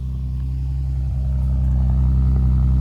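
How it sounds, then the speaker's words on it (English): A station wagon with a 3.2 engine and a new exhaust burbles at idle, a steady, close, deep droning rumble that swells slightly toward the end. "We have an exhaust on the wagon, and the wagon actually sounds pretty decent now."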